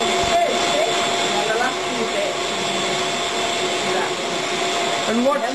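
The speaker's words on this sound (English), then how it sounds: "Then you switch on the mixer." An electric mixer runs continuously while mixing cake batter, a steady loud motor whir with people talking over it throughout.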